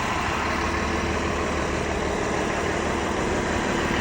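A steady, low engine rumble drones on without a break, close and constant, like a heavy vehicle idling or moving slowly.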